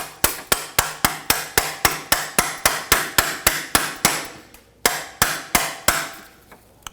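A 13mm socket is tapped onto rusty studs on the exhaust bracket of a 2013-2019 Ford Escape during a catalytic converter job: about twenty sharp, evenly spaced hammer knocks, close and crisp, with a short pause before the last few.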